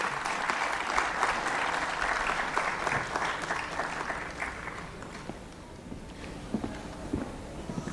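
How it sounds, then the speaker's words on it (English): Audience applause at a solar rooftop launch event, clapping as a dignitary is welcomed onto the stage, dense at first and then thinning out into scattered claps. "Please have a big round of applause."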